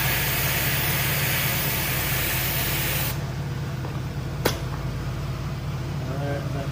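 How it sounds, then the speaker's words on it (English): Clear coat sprayed from a spray can over a repaired Tesla wheel with curb rash, a loud close hiss lasting about three seconds before it stops, followed by a brief click and quieter background noise. "We can just shoot this right back over the clear coat."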